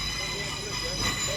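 A train pulls away at Bristol Temple Meads, a steady rumble and hiss of rolling stock with a faint high tonal whine, continuous and fairly even, heard briefly with a voice partly over it.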